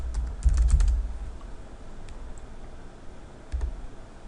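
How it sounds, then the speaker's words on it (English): Someone types a username and password on a computer keyboard, a short burst of close key clicks, then a pause and a few scattered taps, with no talk. "So let's type in backup admin and then this user's password."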